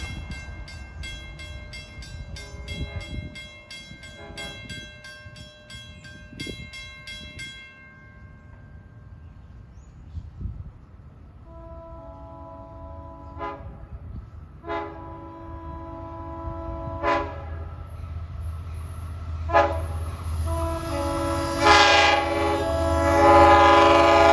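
A Montauk Branch passenger train, number 2772, runs from Jamaica toward Patchogue around a curve, approaching with a rumble and then blasting its horn in several loud, sustained blasts as it passes close by, the roar building toward the end.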